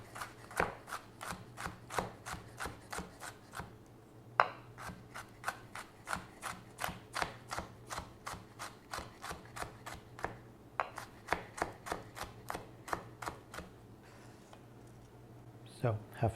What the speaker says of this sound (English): Next, we're chopping half a green pepper.